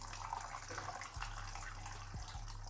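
Raw chicken breast rinsed in a pot of water, a low, quiet, continuous sloshing and trickling wash close by, with a few soft knocks against the pot.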